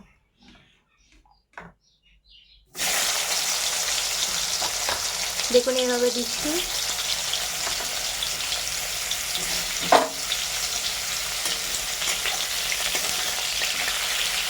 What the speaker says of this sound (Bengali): এবার এক এক করে আমরা কাঁকরোলগুলো দেব ভাজার জন্য